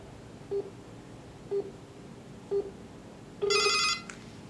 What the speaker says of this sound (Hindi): देखिए इस पे हमारी कॉल आनी शुरू हो चुकी है